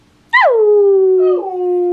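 A husky lets out one loud, close howl that rises sharply and then holds a long, steady, wavering tone. The howl carries on alone, with no other sound around it.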